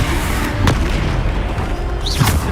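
A Bombarda spell explodes in the Hogwarts Legacy game, with deep booming blasts over a loud, dense, continuous roar of in-game action.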